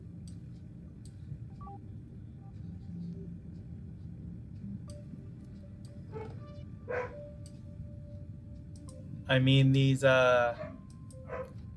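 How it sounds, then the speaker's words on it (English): A dog barks a few times in a short burst some distance away, rising clearly over a low steady rumble, while a person talks briefly before it. "that is my dog in the background."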